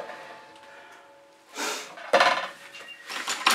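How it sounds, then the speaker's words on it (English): A paint-covered spatula tossed into a bucket of fluid acrylic paint gives a couple of sharp clattering knocks, followed by further rattling contact sounds, close by with no talking. "I'm going to throw that spatula in the bucket"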